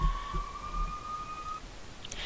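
A siren passing outside, heard faintly as a thin steady wail in the background, with a few soft knocks nearby.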